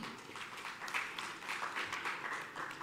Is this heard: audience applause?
yes